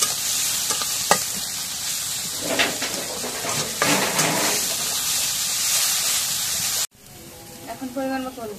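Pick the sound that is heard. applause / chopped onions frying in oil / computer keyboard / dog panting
chopped onions frying in oil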